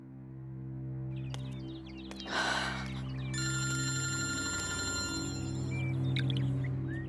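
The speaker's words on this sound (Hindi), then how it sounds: "ये फोन क्यों नहीं उठा रही है?" A telephone rings with a bright electronic tone over a low steady hum, sounding on and off without being picked up.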